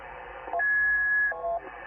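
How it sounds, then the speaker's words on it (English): On the 15 m CW amateur radio band, a receiver hisses with interference from other power sources, broken by a steady whining tone and shorter tone blips over faint static. "That's just interference from other sources of power."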